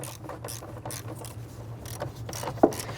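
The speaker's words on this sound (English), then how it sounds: "We're going to use our extension and 1/4-inch ratchet." A 1/4-inch ratchet on an extension loosens a 10mm bolt on the intake of a 1999-2004 Jeep Grand Cherokee 4.7L V8, with a rapid run of quiet clicks ending in a sharper snap.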